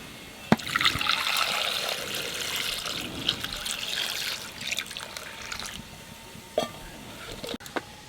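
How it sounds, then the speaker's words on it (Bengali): Cold water pouring over boiled duck eggs in a kitchen, a steady close running splash and trickle that continues for several seconds, with a few sharp knocks and clatters near the end. "এইবার ঠান্ডা জল ডিমের মধ্যে দিয়ে ছাড়াই নেব।"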